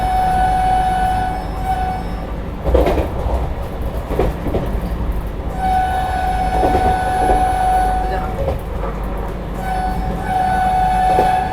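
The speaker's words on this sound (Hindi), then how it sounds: "अभी हम लोगों की ट्रेन पहुंच चुकी है थाने रेलवे स्टेशन" Vande Bharat Express train on the Mumbai–Jalna run, pulling into Thane railway station, heard as a steady close rumble with a sustained horn-like tone and scattered clanks throughout.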